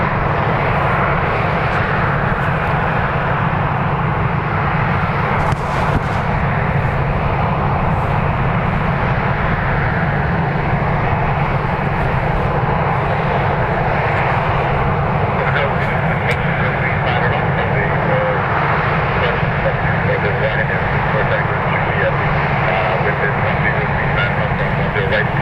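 A Ryanair airliner takes off from Dublin Airport bound for Milan, its engines giving a steady, loud, broad roar throughout. A voice talks faintly underneath.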